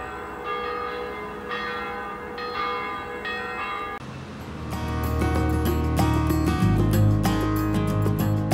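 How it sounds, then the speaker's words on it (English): Church bells ring at the top of the hour somewhere in Romania, a sustained chiming with overlapping tolls that grows louder and fuller halfway through as deeper bells join in, alone without talk. "I love that they're ringing the bells at the top of the hour."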